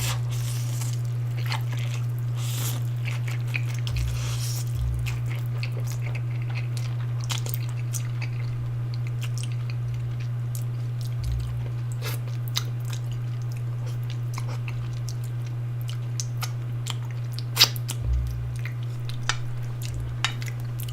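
Noodles with cheese and sriracha sauce being eaten close to the mic, with soft intermittent chewing and squishy bites over a steady low hum, no talking.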